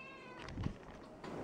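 A single short, soft cat meow sounds close by against quiet background hiss.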